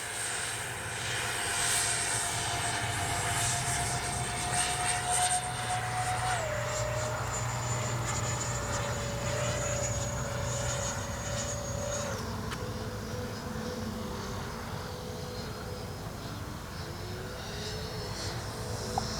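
Freewing F-14A radio-controlled jet with a KM model afterburner in flight, a loud continuous turbine roar and whine whose pitch drops in steps as it passes, steady throughout.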